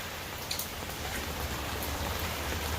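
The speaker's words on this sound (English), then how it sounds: "It's super loud" Steady, loud rainfall hisses without a break, with a few sharper drips and splatters standing out near the start and middle.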